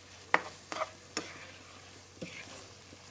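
Thai curry paste stir-fried in a pan for a chicken and eggplant curry, a soft steady sizzle broken by a few sharp scraping clicks of a utensil against the pan.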